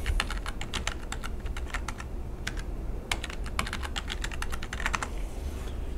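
A password goes in on a computer keyboard as a run of quick, close key clicks in uneven bursts with short pauses, over faint low background noise and no speech.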